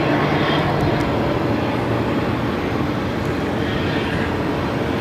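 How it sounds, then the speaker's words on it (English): An American Airlines Airbus A321 arriving on runway 8 at Phoenix gives a steady, moderately loud engine rumble and broad roar that stays constant with no breaks. "1155 coming in from Dallas on an A321."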